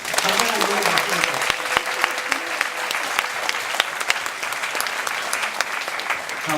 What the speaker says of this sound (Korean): 자, 박수 쳐도 됩니다.